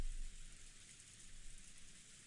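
Steady rain falls beyond a window in a visual novel scene, a soft, even hiss of drops with no distinct pattern, faint and continuous throughout a brief stretch, with no voices.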